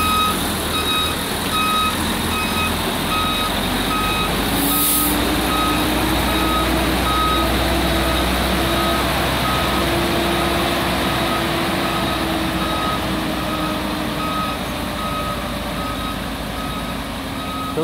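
A truck reverses at a housing construction site in Maresias, its steady repeating backup beeps running throughout over a constant engine rumble, clear and continuous with no talking.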